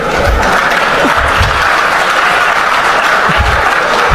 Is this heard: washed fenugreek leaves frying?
no